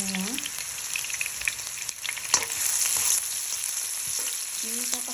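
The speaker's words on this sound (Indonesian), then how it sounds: "Dan ini sekarang mau saya masukkan bawang merahnya, digoreng dulu" Shallots fry in a generous amount of oil, crackling with a steady, bright sizzle and a few stirring clinks, heard close and without voices.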